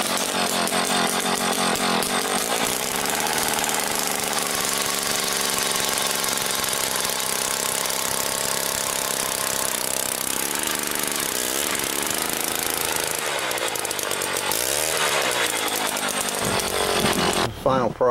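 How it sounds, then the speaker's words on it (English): A gas-powered ice auger roars nearby, drilling holes through lake ice, its engine buzzing and revving steadily, the pitch dipping and surging under load. "Just gonna fire it up and drill a couple holes."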